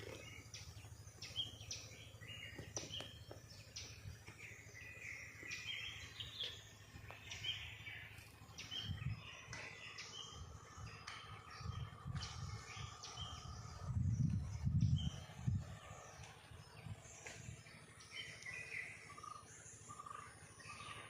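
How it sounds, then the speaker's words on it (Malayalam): Birds call with scattered chirps and short phrases against a faint, steady insect drone in a quiet rural setting, with low rumbling bumps now and then and no talk. "കിളികളുടെ സൗണ്ട് മാത്രമേ കേൾക്കാനുള്ളൂ"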